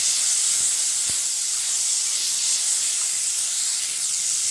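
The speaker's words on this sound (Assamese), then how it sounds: "এতিয়া মই বিনছখিনি ভাজি ল'ম" Green beans frying in a pan give off a steady, loud hiss of sizzling oil that holds evenly throughout, close up, with one brief soft knock partway through and no talking.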